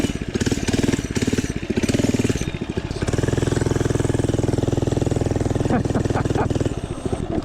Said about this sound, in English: All right, we got a four-stroke mini bike.